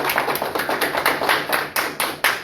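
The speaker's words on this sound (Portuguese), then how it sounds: "Palmas pra ela, gente. Palmas para todos." An audience at a radio and theatre talk event claps in a loose, rhythmic patter of sharp, close hand claps.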